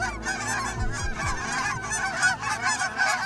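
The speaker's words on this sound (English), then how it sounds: "Snow Goose in the front." A flock of snow geese honks during a waterfowl hunt, with many overlapping nasal calls, some close and loud, others farther off, continuing without a break and with no speech.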